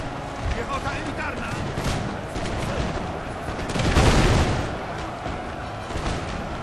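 Cannon artillery fire on a Napoleon: Total War battlefield, a dense continuous roar of booming shots and battle din with a heavier swell midway.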